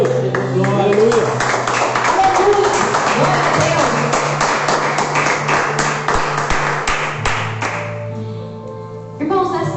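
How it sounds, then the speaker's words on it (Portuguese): A church congregation claps in quick rhythmic unison, loud and sustained for most of the stretch before fading out, with voices calling over the clapping. "Aplauda o nome do Senhor Jesus"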